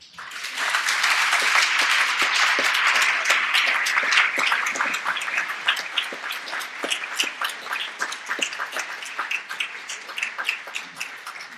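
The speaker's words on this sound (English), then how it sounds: "That was a pretty warm round of applause, wasn't it?" An audience at a city planning panel applauds a newly introduced acting director of a city program, a dense burst of clapping that peaks early, then thins into scattered individual claps over about eleven seconds.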